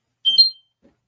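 A short electronic alarm chirp, two quick high tones, then a faint click, brief and fairly quiet in an otherwise silent room.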